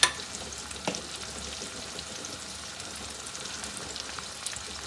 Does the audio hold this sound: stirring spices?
yes